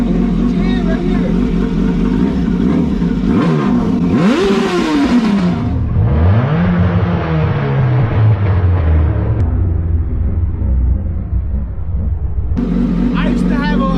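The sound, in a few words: motorcycle engine revving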